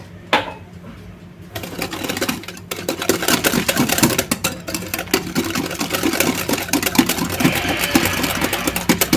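An electric mixer whirs steadily through orange cake batter after milk is poured in, a loud, continuous buzzing hum with rattling against the bowl and no voices.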